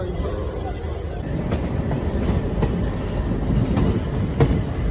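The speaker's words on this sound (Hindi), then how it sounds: "मोड़ है ना, मोड़ पे तो ट्रेन स्लो ही चलती हैं।" Express train, the Sabarmati–Daulatpur Chowk Express, rolling slowly on rails through a curve after leaving Ajmer. Its steady low rumble carries throughout with faint wheel clicks and scattered squeals, heard from inside a third-class AC coach with background chatter.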